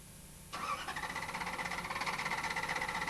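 A car engine with a TCCS control system, set to diagnostic test mode, is cranked after a quiet moment. It kicks in abruptly and churns with a steady, rhythmic pulsing that carries on to the end.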